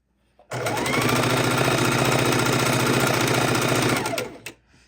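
A sewing machine stitches quarter-inch quilt seams in a rapid, even mechanical chatter that starts abruptly, runs steadily for about three and a half seconds, then stops with a small click.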